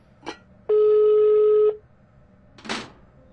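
A phone in the horror video game Evil Nun gives one steady electronic ring tone lasting about a second, loud and close, framed by short soft noises before and after.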